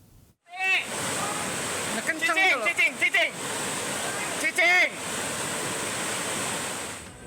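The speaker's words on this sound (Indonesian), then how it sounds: "Kamera warga merekam terjangan arus deras melanda Kampung Cibayoni, Desa Kertajaya, Kecamatan Sumur, Pandeglang, Banten." Flash floodwater rushing through a village in Pandeglang, Banten, a loud continuous roar of torrential current with people's shouting voices breaking through in bursts above it.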